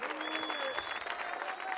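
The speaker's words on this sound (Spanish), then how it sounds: "Un aplauso grande para vos, para Clan para Yacho." Crowd applause at a freestyle rap battle final, steady dense clapping through the whole short stretch with faint crowd noise and a few voices mixed in, moderately distant.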